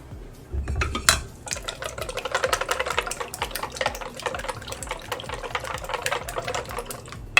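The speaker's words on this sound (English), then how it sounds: "Baby whisk time." Small whisk beating an After Eight mint mixture in a bowl, a fast, steady clatter of rapid ticking strokes close by, with no voices.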